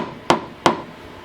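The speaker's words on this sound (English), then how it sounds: "doing something, say, with a hammer and hammering in a nail" A hammer drives a nail with two sharp, evenly spaced strikes, each a crisp loud knock with a brief ring-out in a quiet room.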